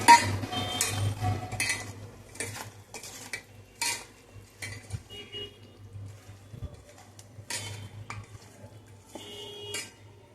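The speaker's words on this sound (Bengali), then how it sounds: "এবার মাখিয়ে নেব মাংসটা।" Spiced goat meat being mixed by hand in a bowl, giving close, intermittent bursts of wet squelching and light clatter separated by short quiet gaps, with no talking.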